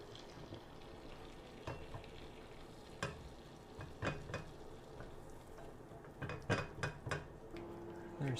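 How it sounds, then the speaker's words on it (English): Flour being whisked into melted butter to make a roux in a pan, with a soft bubbling sizzle and repeated sharp taps and scrapes of the whisk against the pan, growing busier toward the end. "I'm going to get a whisk at the ready, and then tip in my flour, and as the recipe says, whisk vigorously until smooth."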